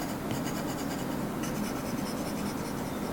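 Stylus pen with a pencil-like tip writing on an iPad Air 5 fitted with a paper-like screen film, giving a steady dry scratchy scribble of continuous strokes, close and fairly soft with no talk.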